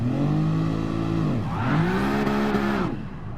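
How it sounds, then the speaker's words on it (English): A car engine held at revs for a launch, a loud close drone that dips, then climbs again to a higher sustained rev before easing off, with no talking. "Low as I can rev it"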